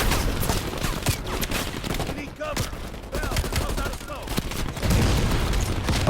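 Dense, rapid gunfire and explosions from the video game Call of Duty Black Ops Cold War, a loud continuous fusillade of shots and bursts with no clear pauses.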